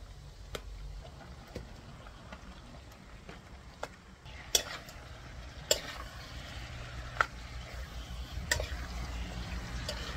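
Chicken adobo sizzling in a pan, a soft continuous frying hiss with occasional sharp ticks and clinks of a utensil against the pan.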